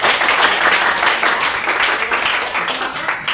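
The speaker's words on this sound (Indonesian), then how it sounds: "Tepuk 1, tepuk 2, tepuk 3. Tepuk 4, tepuk tangan." A group of children claps together in a classroom, a loud, continuous, close-up burst of many hands at once rather than separate counted beats.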